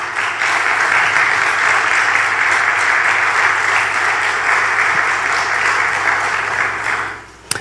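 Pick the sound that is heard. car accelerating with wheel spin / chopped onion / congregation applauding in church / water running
congregation applauding in church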